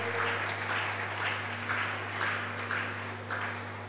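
A church congregation claps steadily for the Lord in loud, sustained applause that pulses in waves, set over a constant low hum from the sound system.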